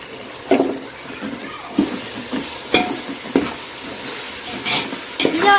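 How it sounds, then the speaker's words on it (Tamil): Ginger garlic paste sautés with onions for a 1 kg chicken biryani, with a soft frying sizzle broken by several sharp stirring scrapes and clatters against the pot at irregular intervals. "இதில் நம்ம இப்போ இஞ்சி பூண்டை ஆட் பண்ணிடலாம் ஃப்ரெண்ட்ஸ்"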